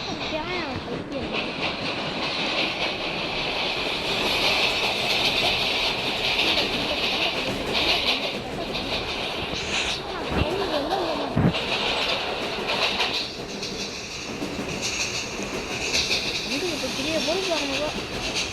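A train runs along rails in a steady, continuous rumble with hiss and a faint clickety rhythm, close and fairly loud throughout, while people talk over it.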